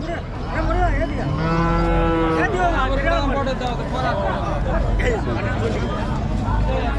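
Cattle moo loudly and repeatedly at the Madrapalli livestock market, long drawn-out calls rising over a busy crowd murmur, with people talking nearby throughout.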